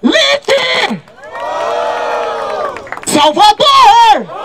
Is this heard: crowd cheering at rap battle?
yes